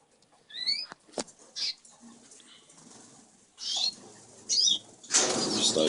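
Canary hens flutter inside a flight cage in a bird room, giving several short bursts of wing flapping and scrabbling, fairly close, with brief chirps and quiet gaps between the flurries.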